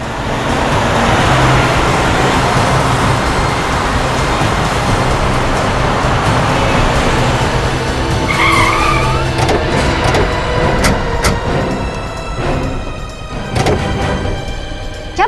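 A car drives along a road at steady loud volume, then brakes with a brief tyre squeal and skids to a stop, followed by sharp clicks and knocks, with no talking.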